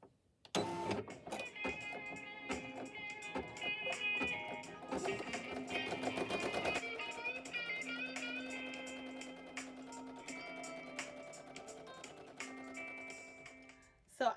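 Embroidery machine stitching a placement line for an outer appliqué on a hooped shirt, a steady fast mechanical ticking and whirring that runs close and continuous for over ten seconds.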